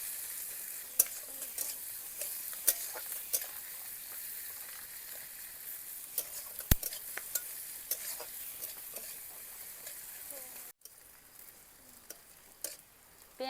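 Chopped onions and green chillies frying in a pan, a continuous close sizzle dotted with sharp clicks and scrapes from stirring, with no talking.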